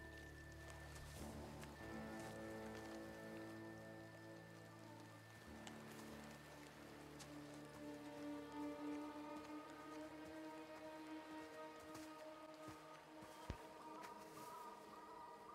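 Steady rain falls in The Quarry video game, a continuous wash of patter that runs the whole stretch, with sustained tonal sounds beneath it.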